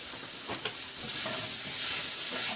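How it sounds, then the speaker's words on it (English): Mushrooms sizzle in a little oil in a pan while being stirred, a steady bright frying hiss with a few scraping stirs on top. "we get the mushrooms coated in a little bit of the oil"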